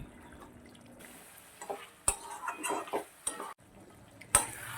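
Chicken frying in a pan with a spoonful of meat masala as a spoon stirs it: scattered metallic scrapes and clinks against the pan over a low sizzle, close and fairly quiet.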